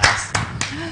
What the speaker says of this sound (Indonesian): Ya, boleh tepuk tangan dulu lah.